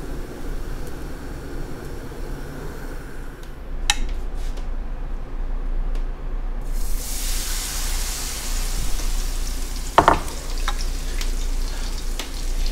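Silver fish fritters sizzle and crackle steadily in hot oil, a continuous frying hiss with a few sharp clinks of a utensil.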